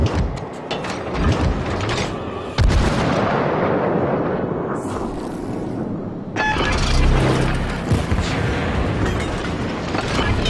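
Battleship artillery fire in a naval combat video game, heavy booming salvos and mechanical clanking that fill the whole stretch, with sharp onsets near the start and again later, loud and dense with no talk.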